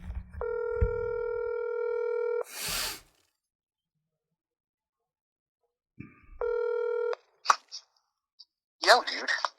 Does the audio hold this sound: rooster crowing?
no